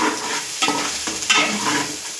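Chicken pieces frying and stirred in a pan as they catch on the bottom, a steady broadband sizzle with scraping stirs and a few louder clanks, close and continuous with no talk.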